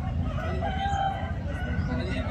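A country rooster crows at the busy Sunday country chicken market in Vijayawada, standing out from a dense, steady backdrop of market bustle and fowl noise.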